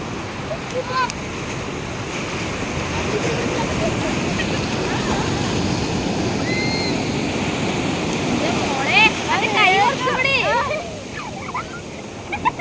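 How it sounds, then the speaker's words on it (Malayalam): Steady roar of surf washing onto a beach, with distant voices and brief shouts rising over the waves near the end. "ഇത് നോക്കണേ തിര കൂടി കൂടി വരുന്നുണ്ട്"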